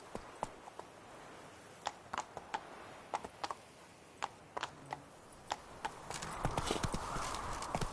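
Hooves of Roach, the horse in the video game Witcher 3: Blood and Wine, clip-clop in a steady, close rhythm of sharp knocks, quickening into a louder, busier gallop over a rising wash of noise near the end.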